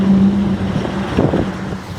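A Fiat 126p Maluch drives and turns, a close, steady small-engine hum and road rumble filling the short stretch with no one speaking.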